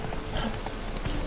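A horse in The Witcher 3 clip-clops steadily while being ridden, its hoofbeats soft and continuous under background game ambience.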